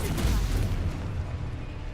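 A Confringo explosive spell goes off in Hogwarts Legacy: a dense, rumbling blast with heavy low-end roar that fills the full two seconds, loud and close, with no pause.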